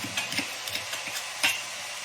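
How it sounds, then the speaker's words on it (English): Soft crackling and popping from food frying in a pan, with a few louder spits, steady and close, no voices. "when this gets through frying over here, I'm gonna drain that grease off"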